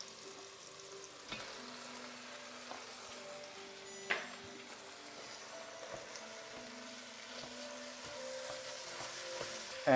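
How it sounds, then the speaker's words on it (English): Ground pork frying in a pan for a Bolognese sauce, a steady low sizzle with a few sharp clinks and stirring knocks scattered through, close and fairly quiet with no talking. "we're going to add the ground pork. We want the pork to cook first"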